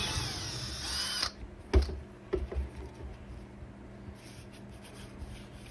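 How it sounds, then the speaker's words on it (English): A power drill whines loudly and steadily for about a second while drilling holes through vinyl siding for a knife sheath, then stops, followed by a few sharp knocks and light scraping sounds. "Drill the holes out"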